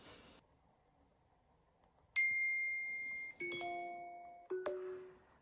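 An iPhone SMS notification sound on iOS 17.1: three separate bright electronic chime tones ring out in a rising sequence, each note clean and sustained, after a short burst of noise and quiet.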